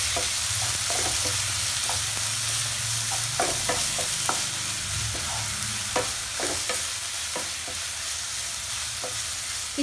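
Chopped onions fry in a pan with tomato and ginger-garlic paste for an Odia-style egg curry, giving a steady, quiet sizzle broken by repeated sharp scrapes and clicks of stirring.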